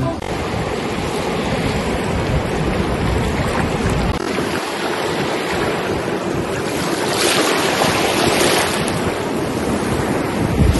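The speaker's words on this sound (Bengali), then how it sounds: "এখন সমুদ্রের পাড়ের দিকে দাঁড়িয়েছে, কিন্তু এখন জোয়ার বোধ হয়, জলটা কিন্তু বাড়ছে।" Sea waves roll onto the beach at Mandarmani as the tide rises, a steady loud surf wash with gusts of wind buffeting the microphone throughout, no voices.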